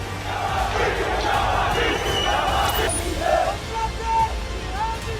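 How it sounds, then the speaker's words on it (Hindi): A street crowd of protesters in the West Bank chants slogans against Israel: a dense, loud roar of many raised voices with shouted calls rising above it, heard from within the throng. "लोग इजराइल के खिलाफ नारेबाजी करते रहे।"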